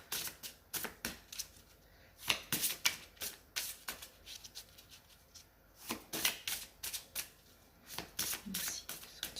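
Tarot card decks being shuffled by hand, close and fairly quiet, in repeated riffling bursts with short pauses between them as the cards are handled again and again.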